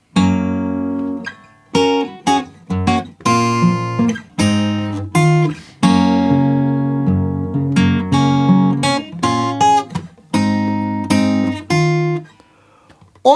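An acoustic guitar plays the first line of a song, clear plucked chords and single notes ringing out in phrases separated by short pauses, close and loud with no talking.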